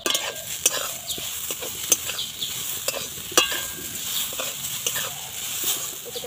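Papaya cooks in a pan over low heat, giving a soft sizzle under frequent close stirring scrapes and spoon taps; quiet and intermittent, with no speech.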